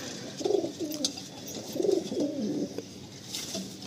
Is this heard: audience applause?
no